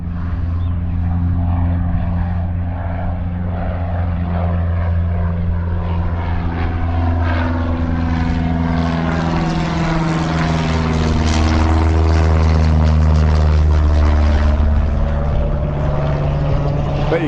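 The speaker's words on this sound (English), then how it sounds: "Look at that, it's a very low flying plane." A low-flying propeller plane passes overhead above a dam in the Cyprus mountains, its droning engine tone rising in volume and then dropping in pitch as it goes by, heard alone without talk.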